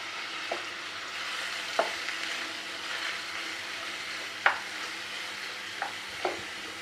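Two sliced onions fry softly in melted homemade butter for paneer bhurji, a low steady sizzle broken by about five distinct spoon taps and scrapes against the pan, with no talk.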